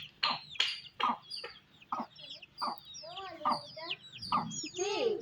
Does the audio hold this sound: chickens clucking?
yes